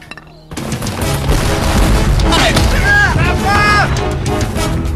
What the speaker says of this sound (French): l'artillerie française ouvre le feu contre les lignes alliées